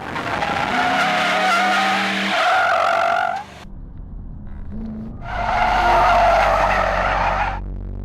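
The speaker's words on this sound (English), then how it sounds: "Turn 12R was a great spot to slide out the tail on the Shelby GT and the 350Z." Tires squeal loudly as a Ford Shelby GT or Nissan 350Z slides, two long screeching skids separated by a brief lull with engine rumble underneath.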